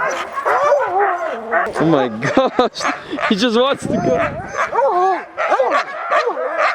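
Sled dogs hitched for a dog sledding trip into Alberta bark, yip and whine eagerly at close range, a busy overlapping chorus running beneath excited human talk throughout.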